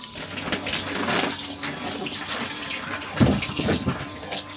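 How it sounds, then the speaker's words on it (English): Water runs from an off-grid propane-heated homestead shower, a continuous hissing splash of moderate loudness with a brief louder gush near the end. "within a minute you should have hot water"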